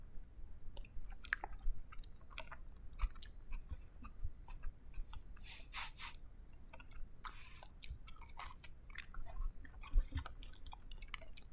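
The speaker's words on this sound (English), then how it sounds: "I don't normally like to eat on frequency, but that's one good cookie." Someone chews a big homemade cookie close to the microphone, with soft, irregular crunches and mouth sounds at a low level and no talk.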